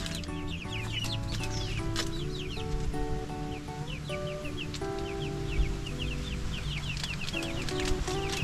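Chickens cluck and chatter close by on a small farm, several birds calling in overlapping short bursts over a steady low hum of background noise.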